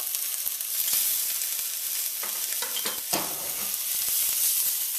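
Diced onion, finely diced garlic and grated ginger frying in a pan for a vegetable stir fry, a close, steady sizzle with occasional spatula scrapes and stirring clicks, no voices.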